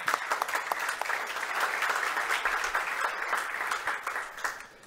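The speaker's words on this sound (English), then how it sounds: "So please, a round of applause for Tim and Ilies." Conference audience giving a round of applause for presenters, a steady, fairly light patter of many hands clapping that holds evenly and tapers off at the end.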